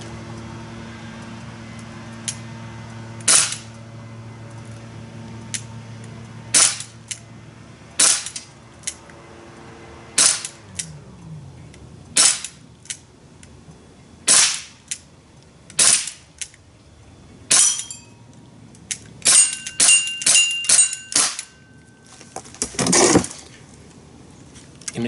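Crosman Mako CO2 blowback pistol firing a series of sharp, loud shots, spaced unevenly at first and then coming in a quicker cluster near the end, with faint mechanical handling between them.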